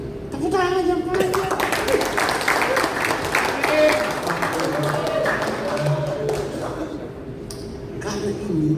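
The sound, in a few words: applause at a rally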